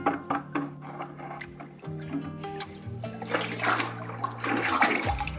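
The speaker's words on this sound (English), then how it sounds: "I'm gonna mix it up and then we're gonna dip the mug into the glaze." A ceramic mug dipped into liquid white glaze, gripped with tongs, gives wet sloshing, dripping and trickling splashes over a low background hum, with a louder pour of liquid near the end.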